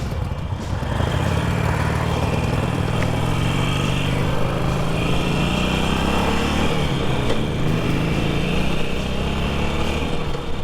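A Kawasaki Ninja motorcycle engine droning steadily while riding, a loud close hum with wind rush and small shifts in revs throughout, no one talking.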